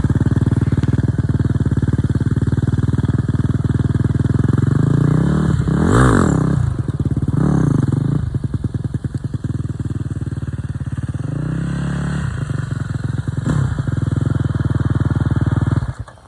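A 250 dirt bike engine idles and revs in short bursts during wheelie practice, with throttle blips rising and falling against a steady near engine drone throughout.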